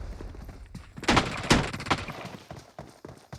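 Rapid bursts of video game gunfire crackle through a multiplayer match, with several loud sharp shots clustered in the middle amid a busy, steady background of smaller pops and thuds.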